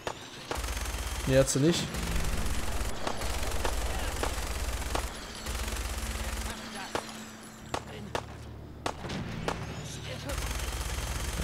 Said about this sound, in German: Okay, die Minigun ist gerade ein bisschen überhitzt.